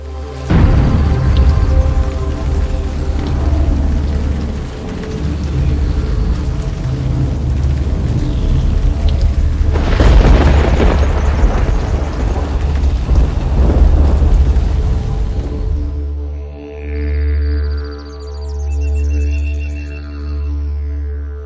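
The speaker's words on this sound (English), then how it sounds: "Promise of rain and a distant thunder." A deep, sustained rumble of thunder rolls on, swelling and fading, then gives way to softer low rumbling and faint bird-like chirps.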